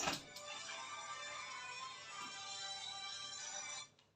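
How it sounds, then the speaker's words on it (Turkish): A mobile phone ringtone sounds continuously at moderate volume, a sustained electronic melody that cuts off abruptly near the end, with no speech. "Ben bir bakayım benim telefonu da çalıyor."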